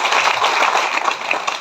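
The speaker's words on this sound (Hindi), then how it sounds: "जोरदार तालियां होनी चाहिए।" Loud, dense applause from a large audience at a direct selling business meeting, steady crowd clapping throughout with no talk over it.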